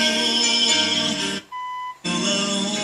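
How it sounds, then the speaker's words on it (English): A single steady electronic beep from a 1963 Ford Falcon's original AM car radio, clear and fairly loud, sounds for about half a second between bursts of louder broadband noise before and after it. "Balance it out. Let it beep."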